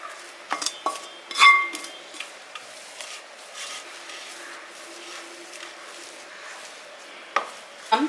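Kachori filling mixture scraped onto a plate, with scattered clinks, scrapes and taps of a utensil against metal and dishware, a louder clatter early and sparse soft rubbing between.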